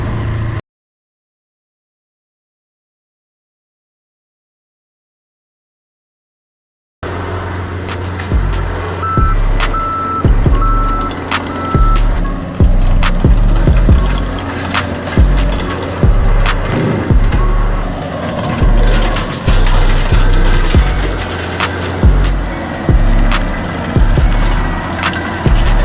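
After a stretch of silence, a vehicle drives out across a small pasture with a steady rumbling engine and repeated bumps and rattles from the rough ground, heard close.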